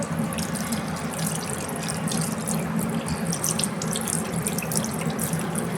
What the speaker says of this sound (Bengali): এখন আমাকে এই হাতটা একটু ধুতে লাগবে